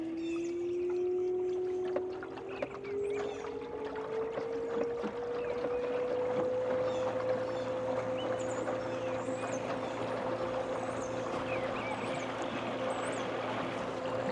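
A rudder-style electric outboard motor running at 500 watts pushes a small boat, giving a steady whine that rises slightly in pitch and then holds, over continuous water wash and hull noise.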